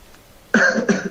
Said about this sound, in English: Okay, this is cough.